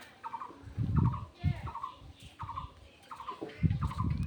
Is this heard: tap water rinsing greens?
no